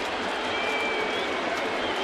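Crowd murmur fills a baseball stadium at a Red Sox–Yankees game with the bases loaded, a steady broad wash of many distant voices with scattered faint claps and no single voice standing out.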